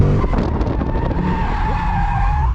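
A Ford Mustang S650 drifts with its tires skidding and squealing, a loud, sustained screech over engine roar that fills the whole short burst.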